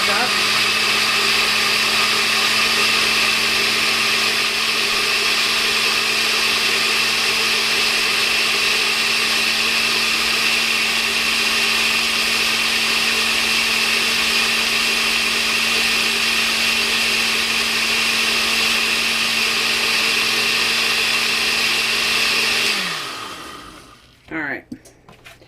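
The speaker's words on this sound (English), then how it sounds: "So now we're just gonna whisk this up." An electric whisk beating homemade marble Velveeta cheese, a loud steady motor whine that holds for over twenty seconds, then winds down and stops, followed by a few brief clatters.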